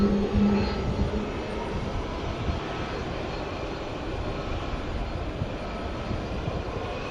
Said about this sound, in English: Coming in there from St. George, Utah on a CRJ 900.